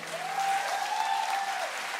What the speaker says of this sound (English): A round of applause for Monique Helenberg.